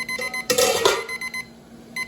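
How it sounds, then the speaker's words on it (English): A kitchen timer goes off during home canning of beans and cucumbers, sounding a loud, repeated electronic alarm beep in short bursts, close by with no talking. "The timer's going off."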